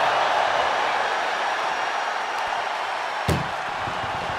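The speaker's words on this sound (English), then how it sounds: "trying to at least slam one door shut" An ambulance door slammed shut during an ambulance wrestling match: a single sharp thud stands out over steady broadband noise from the crowd and arena.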